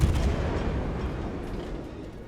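A deep naval gun blast rumbles in World of Warships, one heavy low boom that decays into a fading roar over about two seconds.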